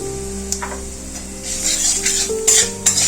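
Half a spoon of turmeric powder dropped into hot oil with already-fried whole spices for kalai dal, giving soft sizzling and a few sharp spoon-on-pan taps, close and quiet, with no talking.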